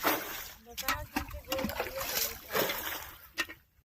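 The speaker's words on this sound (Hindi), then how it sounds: "यह देखा भैया, पानी उलचा जाता है" Pond water being bailed out by hand for fishing, a man scooping it in a cold winter pond, giving repeated close splashes and sloshes in uneven bursts with speech over the top.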